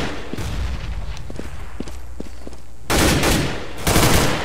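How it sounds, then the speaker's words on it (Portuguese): Gunfire bursts and a grenade blast in Counter-Strike: Global Offensive multiplayer, with a few sharp isolated shots early on followed by two loud, dense booming bursts near the end, no speech over them. "Grenade out."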